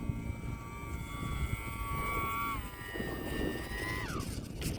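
Small E-flite UMX Pitts S-1S electric RC biplane flying an approach, its high motor whine steady and moderately near, dipping and shifting in pitch as the throttle changes, over outdoor wind noise.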